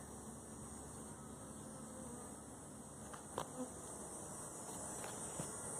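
A honeybee swarm hums steadily near a caged queen at a hive bottom board, a continuous close, even buzz with a few brief louder passes of individual bees.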